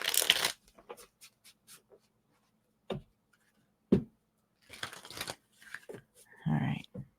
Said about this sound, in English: Let me give it a couple more shuffles here.